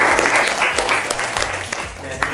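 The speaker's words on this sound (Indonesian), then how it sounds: "Kita beri tepuk tangan." A classroom group claps together for a student who has just finished presenting, a dense, fairly loud, steady applause that lasts the whole stretch.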